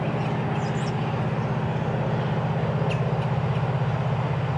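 A freight train rumbles past close by, its wheels clacking in a steady rapid rhythm under a continuous low roar, with faint birdsong above.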